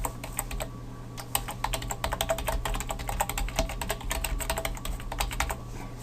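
Fingers type an email address on a computer keyboard, with a rapid, steady run of close, crisp key clicks over a low hum and no talking.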